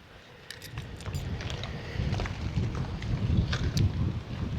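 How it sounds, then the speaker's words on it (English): Wind gusts outdoors, a low rushing roar that builds louder over a few seconds, with faint clinking and rattling in the background. "It's supposed to get windy out, real windy. And I think it's just starting."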